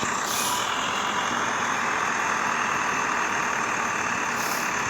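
Inside a slow-moving passenger bus, the engine gives a loud, steady rumble and road roar that runs unbroken throughout, with no voices over it.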